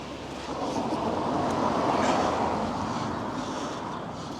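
Steady rumble of a moving train, a continuous broadband roar that swells slightly in the middle and holds level, with no voices.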